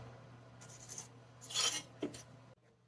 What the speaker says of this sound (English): make a mark. I'm going to go all the way across.